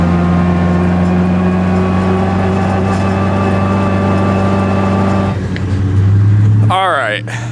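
A loud car with straight-cut gears and solid-mounted parts drives along with a steady droning engine and a constant rattling whine. Near the end it surges into a rising rev.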